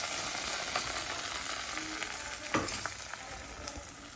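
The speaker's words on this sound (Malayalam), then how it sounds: "മീൻകറി ഇട്ടിട്ട് ഇളക്കിയിട്ട് നോക്കാം" Fish curry sizzles steadily in a hot pan while being stirred, with a close, even frying hiss broken by occasional soft scraping knocks of the spoon.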